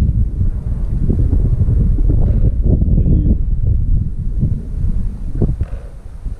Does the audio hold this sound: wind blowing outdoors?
yes